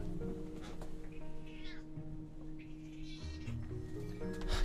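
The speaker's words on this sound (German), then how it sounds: "Ach, diese Katze." A cat meows repeatedly in The Inner World video game, the cries rising and falling over a steady low background hum, close and clear.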